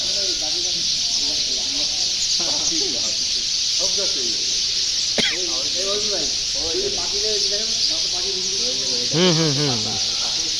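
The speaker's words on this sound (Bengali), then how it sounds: "চড়ুই পাখি" A dense, unbroken chorus of many sparrows chirping at once from a tree in Kalukhali, Rajbari, Bangladesh, loud and steady throughout, with people talking underneath and a brief sharp click midway.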